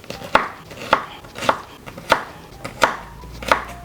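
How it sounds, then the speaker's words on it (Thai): Steady knife chops through a carrot on a cutting board, six sharp thuds at an even rhythm, close and crisp with no talking. "แครอทเราก็จะหั่นเป็นเต่าเหมือนกันนะครับ"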